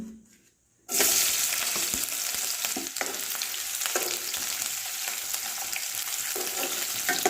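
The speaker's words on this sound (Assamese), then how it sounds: "তেল গৰম হ'ল, ইয়াত এতিয়া মই পিঁয়াজ দি দিম।" After a moment of quiet, onions drop into hot mustard oil and burst into loud, steady sizzling frying that continues with crackles.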